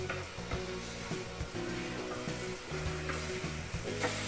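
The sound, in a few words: stirring parsley in a sizzling pan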